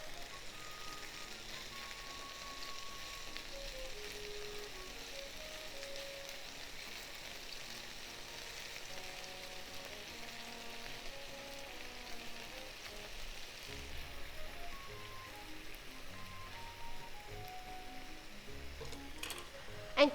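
Chicken sizzling in a pan after being flipped, a faint continuous crackle and hiss with a few soft knocks toward the end.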